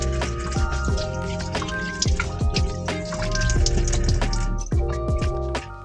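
Water runs from the tap into the basin of a small bathroom aboard a sailboat, heard as splashing with irregular drips and clicks that repeat closely and steadily, with no talk.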